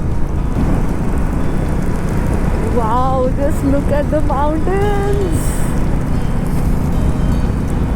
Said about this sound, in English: Oh, it is raining again.